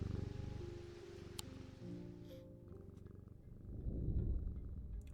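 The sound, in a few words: cat purring while being petted in the video game Strange Antiquities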